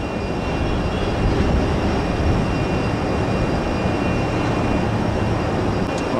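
A Southwest airliner arriving at an airport, its broad jet roar steady and fairly loud for the whole stretch, with no talk over it.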